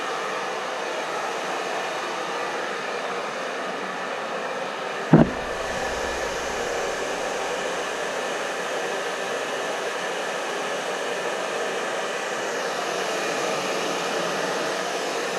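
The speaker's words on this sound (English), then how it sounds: "Let's see if this hair dryer will shrink it." A hair dryer runs steadily throughout while heating window tint film, with a loud continuous airy whoosh and a single brief click or knock partway through, no talking.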